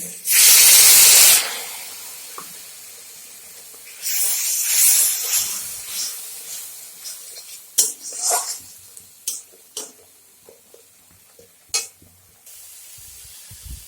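A loud burst of sizzling hiss as a little water hits frying spices in a hot pan for egg and potato curry, then more bursts of sizzling with scraping and clinks of stirring, fading to quiet.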